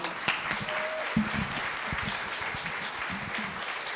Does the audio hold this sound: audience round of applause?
yes